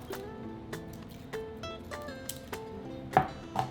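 A knife chops food on a cutting board for a quick appetizer, a few faint, irregular taps and thuds, close but quiet, with soft kitchen background and no one talking.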